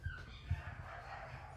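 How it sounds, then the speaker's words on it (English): Puppies bark and yip from inside a house, muffled and fairly faint, with a couple of short louder yelps near the start and a low steady background throughout. "Sorry about the puppies barking inside."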